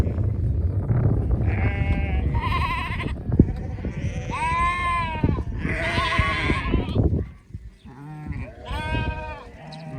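Sheep and goats bleat loudly and repeatedly in a farm pen, several animals overlapping close by, with calls of different pitches from the young and the grown.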